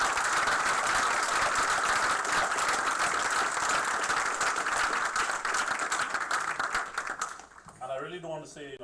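An audience at a white coat ceremony applauds faculty members with sustained, dense clapping that fills the hall, tapering off toward the end as a voice begins speaking.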